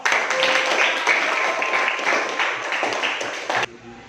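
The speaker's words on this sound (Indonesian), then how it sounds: "Silakan tepuk tangan untuk kelompok orang ini" Applause from a classroom audience for a student group finishing its physics presentation, a steady dense patter of clapping that holds for several seconds, then breaks off abruptly near the end.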